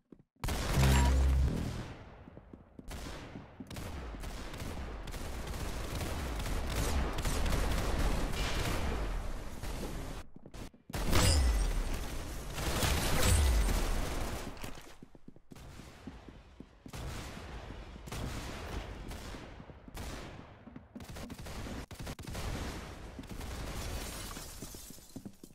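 Dense, continuous gunfire from a shooting video game, with loud repeated shots and bursts running almost without pause, including a short gap near the middle.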